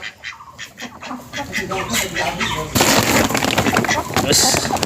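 A flock of ducks, just let out of their pen, quack and honk loudly and continuously nearby, with people talking over the birds.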